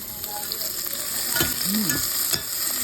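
Chopped onions sizzle and fry in a pan for a chicken tinola, a steady crackling hiss with a few stirring scrapes, close and continuous with no talking.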